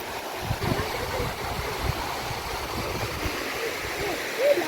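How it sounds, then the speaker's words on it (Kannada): Overflowing water rushes down a roadside drain channel toward a river, a steady, fairly quiet wash with faint talk in the background. "ನೋಡ್ಬೋದು ನೀರು ಇದೆ ಇಲ್ಲಿ, ಇಷ್ಟು ಓವರ್ಫ್ಲೋ ಆಗುತ್ತೆ."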